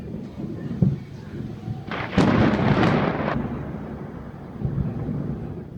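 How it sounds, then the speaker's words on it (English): Thunder rumbles low and heavy, with a sharp crack that swells into a loud rolling boom midway and then fades into softer distant grumbles, with no talking. "The first rumble of thunder always catches you off guard."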